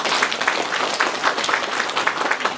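A crowd at a county council briefing in Geumsan, South Korea claps together in a brief, fairly dense burst of applause with no talking over it.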